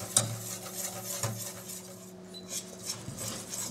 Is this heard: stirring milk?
yes